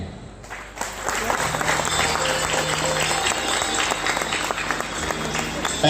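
Audience applause at a live stage show, sustained and loud from start to finish, with crowd noise mixed into the steady clapping.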